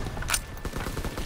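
Fast, continuous bursts of automatic gunfire from a World War II shooter video game, loud and close, with sharp individual shots rattling in quick succession and no talking.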